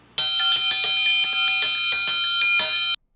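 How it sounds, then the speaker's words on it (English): A dinner bell rung on a farm, struck in a quick run of bright metallic rings for about three seconds, close and clear with no other sound, then stopping abruptly. "Mrs. Brown rang the dinner bell"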